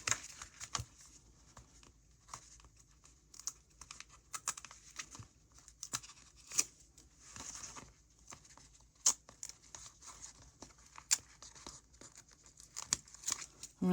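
Quarter-inch tape being peeled off the back of a picture, heard as a quiet run of short, crackly tearing and crinkling bursts at irregular intervals, close up, with no one talking.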